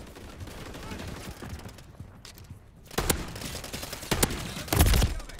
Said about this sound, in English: I'm getting hit markers on this fucking shotgun